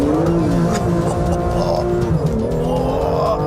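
A 2016 BMW M2 with an automatic gearbox launches hard from a standstill, its engine note climbing loud and close through the revs, with a brief dip and recovery as it shifts.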